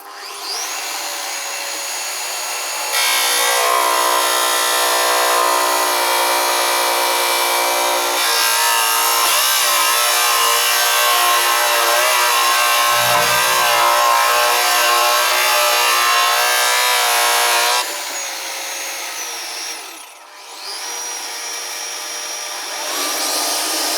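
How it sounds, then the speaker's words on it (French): A power drill bores 12 mm deep holes into wood for a wall cabinet with simple doors, a loud, steady whirring drone that holds for about fifteen seconds, dips, then resumes, with no talking. "ils nous disent de percer en profondeur de 12 mm."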